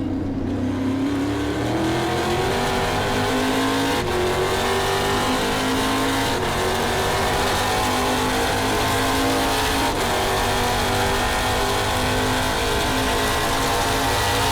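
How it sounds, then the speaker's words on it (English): Onboard a Trans Am race car at Portland, the engine roars loud and close throughout, with rising and falling revs through the gears. "On board with Kyle Kelly"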